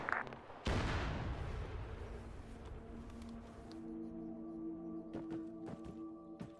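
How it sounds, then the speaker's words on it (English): Explosions go off in the military shooter Arma 3: a sharp blast followed by a long, rolling rumble that slowly fades, fairly faint and distant, with a low steady hum left behind. "There is unknown explosions."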